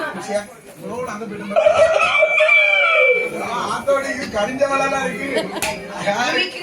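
A voice imitates a rooster's crow, a drawn-out rising call over about two seconds, surrounded by ongoing talk.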